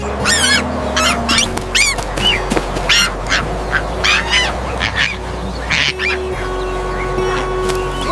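A cartoon duck quacks repeatedly in loud, nasal honking bursts over a farm scene with tractor-like background music, the calls coming in quick clusters across the whole stretch.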